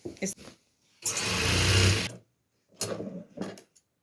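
Sewing machine running in one sustained burst of about a second while stitching the folded edge of a petticoat waistband, close and steady, with short bursts of a voice before and after.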